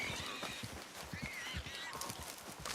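Horse in Red Dead Redemption Online, with clip-clop hoof steps thudding in a steady rhythm close by under a constant game ambience, and faint whinny-like tones above.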